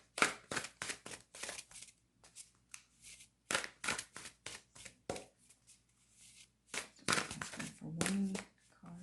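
Tarot cards are shuffled in quick, crisp bursts, riffling and snapping close by with brief pauses between rounds.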